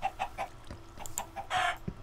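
Chickens cluck close by in quick, irregular bursts, rising to a louder squawk near the end, over low background rustling.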